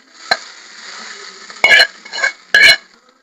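Tempering spices dropped into hot oil for mango dal, giving two or three short, sharp sizzling bursts close by, with quieter crackling between them in a home kitchen.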